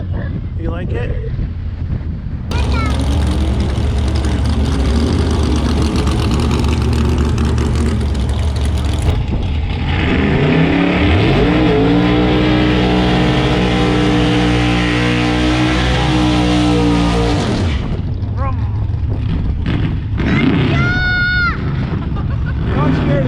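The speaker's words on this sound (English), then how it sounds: "Look at this Honda. You see the silver car? Baby burnout." A silver Honda does a small burnout at a street-legal racing event, its engine revving hard and loud and close, with heavy wind rumble across the microphone throughout.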